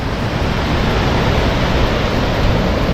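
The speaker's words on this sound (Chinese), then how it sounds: "超壮观的这个大瀑布" Roaring rush of a large waterfall at Trollstigen in Norway, a loud, steady broadband wash of falling water that stays constant and unbroken from start to finish, with no voices.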